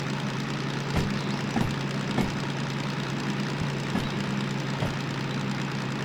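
The diesel engine of a DM3 locomotive in the Derail Valley train game idles steadily, giving a loud, continuous low rumble with faint periodic knocks and no talk.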